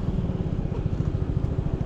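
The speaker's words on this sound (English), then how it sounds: "Like when I accelerate, you can hear the engine revving." An upgraded Honda Ruckus scooter engine revs under acceleration, a rapid buzzing pulse close to the rider that stays loud and steady over a couple of seconds, with no talking.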